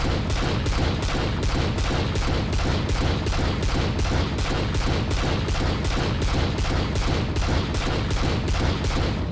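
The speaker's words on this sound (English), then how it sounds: "I'm going to showcase to you how the gun shoots with infinite bullets." Outlaw gun in the video game Valorant firing with infinite bullets, a loud, unbroken rapid string of about thirty evenly spaced heavy shots, alone without talk.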